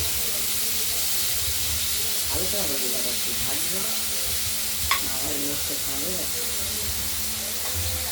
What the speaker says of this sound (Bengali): চাক চাক করে কেটে নিয়ে নুন হলুদ মাখিয়ে কড়াইতে আমরা এটা প্রথমে ভেজে নেব